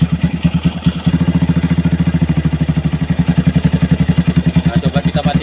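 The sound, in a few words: motorcycle engine running before being switched off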